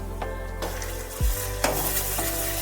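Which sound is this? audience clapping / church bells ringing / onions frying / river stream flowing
onions frying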